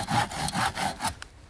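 A hand saw cuts through wood to build a shelf, about six rapid rasping back-and-forth strokes, close and loud, slowing to a stop at the end with no voices.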